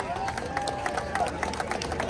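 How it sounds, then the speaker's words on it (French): A crowd at a solar eclipse show in Parc Jean-Drapeau, Montreal, claps and cheers in dense, steady applause, with voices murmuring underneath throughout. "Merci, on s'applaudit."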